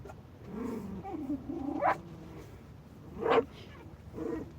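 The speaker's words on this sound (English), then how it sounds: "little barks" A small dog lets out a few short, soft barks and yips, spaced irregularly over quiet background, fairly faint and close.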